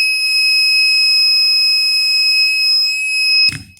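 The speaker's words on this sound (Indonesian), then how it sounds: "untuk agar membunyikan buzzer ini berarti kita sambungkan ke pin yang aktif" The buzzer on an educational mobile robot, wired to an active pin, sounds a steady piercing electronic tone that holds loud and unbroken for over three seconds, then cuts off abruptly with a small clunk.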